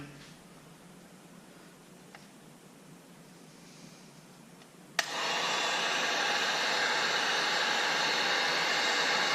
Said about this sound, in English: Careful with your heat gun, you will burn yourself.